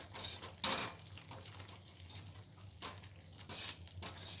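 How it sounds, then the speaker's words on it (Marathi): A spoon stirring thickening raw mango murabba with cardamom powder in a pan, soft scraping strokes with faint sizzling bubbles, quiet and intermittent, with no talk. "पुन्हा एकदा मिक्स करून घेऊया"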